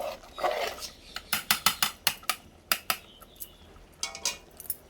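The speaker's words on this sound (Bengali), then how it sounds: "দিয়ে আমি শুধু ঘন ঘন নাড়াতে থাকবো" A spoon scrapes and knocks against a cooking pot while stirring thick vegetable khichuri with cardamom, a run of sharp, rhythmic metallic clinks close up, pausing briefly before a few more strokes, with no talking.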